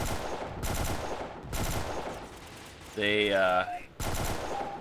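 Sustained automatic gunfire from the video game Delta Force Xtreme, loud rapid bursts broken by short gaps, with someone talking briefly.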